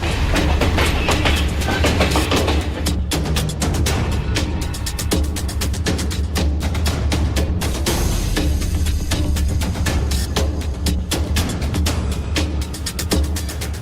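The Pune–Danapur Express pulls in at a platform at Jabalpur station, its loud, continuous rumble carrying a steady clickety-clack of wheels over rail joints throughout, with no voices.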